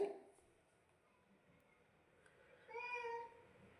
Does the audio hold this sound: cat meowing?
yes